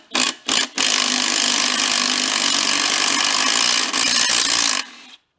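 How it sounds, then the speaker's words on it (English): A loud power tool whirs against a self-destructing leaf blower with Loctited fasteners, opening with two short bursts before a sustained run of about four seconds and a brief dip near the end, then stopping abruptly. "let's switch over to power tools a little."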